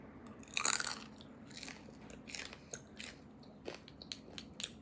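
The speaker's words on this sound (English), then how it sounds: "y'all want to hear how crunchy this part is?" Crunchy bone marrow on toast bitten and chewed close to the mic, a sharp loud crunch followed by a series of quieter crackling chews.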